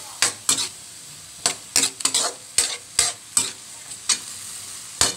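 Vegetables and hotdog with celery stalks and carrots being sautéed for fried rice, with repeated scraping stir strokes of a utensil against the pan over a steady sizzle, nearby and fairly loud with no talking.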